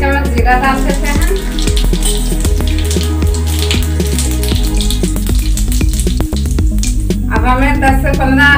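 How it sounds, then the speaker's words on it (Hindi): A spoonful of cumin seeds sizzles in hot oil in a kadhai. A crackling frying hiss plays under loud, prominent background music throughout. "अब हम इसमें एक चम्मच जीरा डाल देते हैं।"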